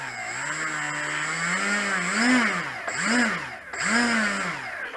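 Small glow or petrol engine of a Tiger Moth model aircraft taxiing around a garden, a steady buzzing drone whose pitch rises and falls in three swells as the throttle opens and eases, close and fairly loud.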